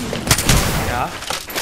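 Gunfire from the video game Apex Legends, a burst of loud, close shots and booms, with a voice talking over and between the shots.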